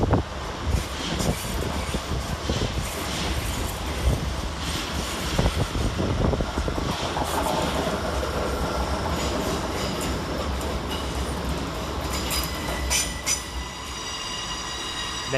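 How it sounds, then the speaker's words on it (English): A Class 387 Heathrow Express train arrives at London Paddington from Heathrow Terminal 5: a loud, close rumble with squealing wheels and metallic screeches, a dense continuous roar that eases slightly toward the end. "Arriving to terminate with a Heathrow Express service off Heathrow Terminal 5 is 387 131 and 387"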